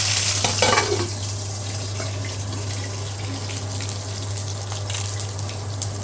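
Onions and mustard seeds frying in oil for a mango curry, a soft steady sizzle with light stirring over a constant low hum, with a brief stronger burst near the start.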